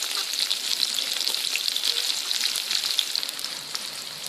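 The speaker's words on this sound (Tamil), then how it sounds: "வெங்காயம், பச்சை மிளகாய் ரெண்டையும் போட்டு நல்லா வதக்கிக்கலாம்." Onion and green chili sautéing in a pan, a steady bright sizzle and crackle of frying that holds evenly throughout, close and with no talk.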